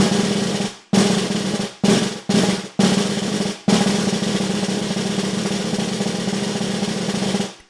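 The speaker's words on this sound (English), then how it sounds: "So I know a lot of you might have trouble with your closed rolls." Buzzing closed snare drum rolls played in several short bursts separated by brief gaps, then one long sustained roll, close and loud.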